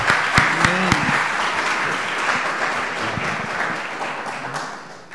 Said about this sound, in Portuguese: Pode aplaudir Jesus mais uma vez?